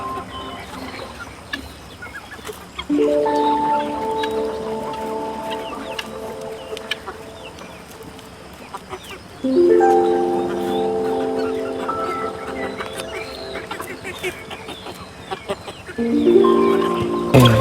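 Brahma and desi chickens cluck in a farm run, with bursts of loud clucking coming in three waves among fainter bird calls while a person talks now and then.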